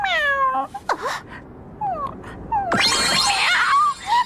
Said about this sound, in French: Chat.